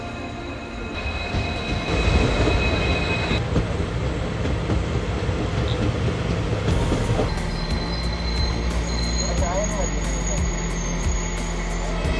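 A train rumbles and clatters through Varkala Sivagiri railway station in Kerala, with a steady low roar, metallic squeals and faint voices in the background.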